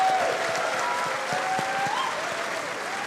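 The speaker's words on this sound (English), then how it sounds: "We're going to give a little round of applause for our character artists" Steady applause from a convention panel audience at TennoCon 2025, a dense patter of clapping that holds evenly for a few seconds with a faint tone running beneath.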